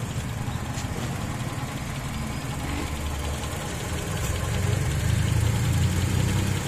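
Engine of a 2006 second-generation Honda CR-V automatic, idling steadily with a low, even rumble and light ticking, heard close with no voices.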